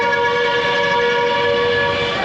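A metro train runs at an elevated station above a busy Dhaka street, giving a steady, loud rolling drone with sustained tonal whine lines throughout, no talk.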